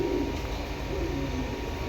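Pigeons, including a pair of army pigeons and dotted-eye birds offered for sale, coo softly and continuously close by, a low murmuring drone with no talking.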